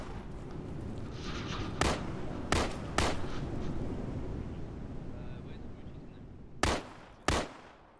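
Gunfire aimed at a trench, with several sharp, loud single shots cracking out at irregular intervals, two early, one a second later, then two more near the end, over wind-blown background noise.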